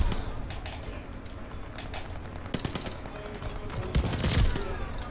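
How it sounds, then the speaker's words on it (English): Gunfire in a Call of Duty Vanguard match, with dense automatic bursts and several sharp, louder blasts, one near the end, over a busy battle bed. "It hit me with a shotty."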